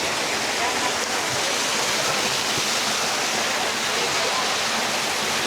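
Spring water gushes steadily out of a large pipe into a cemented basin at a former cave spring beside a lagoon in Indang, Cavite, a loud, dense, unbroken roar close by with no pauses.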